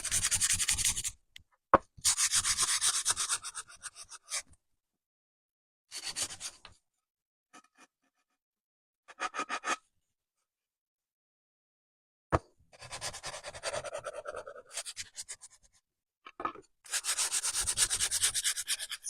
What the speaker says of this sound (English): And you need to sand this part.